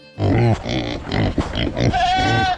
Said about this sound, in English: these are pigs